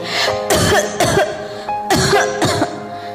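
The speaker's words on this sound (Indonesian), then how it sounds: "terbatuk-batuk karena hampir kehabisan nafas" A person coughing in harsh, repeated bursts, close and loud, with two clustered pairs of coughs separated by a short gasp.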